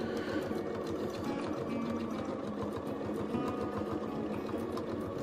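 A sewing machine runs steadily during free-motion quilting of feathered border designs, giving a continuous fast mechanical whir with rapid needle rhythm, close and even, without talk.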